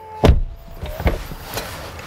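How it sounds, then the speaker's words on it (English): A 2012 Rolls-Royce Phantom's power-closing rear door thuds shut with a heavy low knock, followed by a softer second latch and a faint whirring motor easing off. "Power closing rear door."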